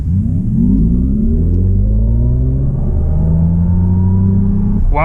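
A Mercedes GLB 250 accelerates hard from a standstill. The engine note climbs steadily and loudly through the revs, with a brief shift-like change near the end and no talking.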